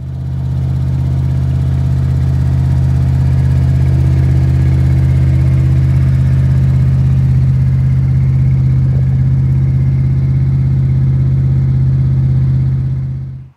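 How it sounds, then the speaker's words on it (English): Engine of a 1969 Mercury Montego running steadily, a loud, close, even rumble with a strong low hum that holds throughout and cuts off abruptly at the end. "I actually have a video somewhere of this car running"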